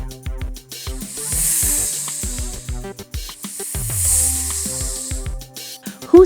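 A snake hisses in two long, loud, airy bursts that swell and fade, close by and alone, with a low rumble and faint clicks underneath.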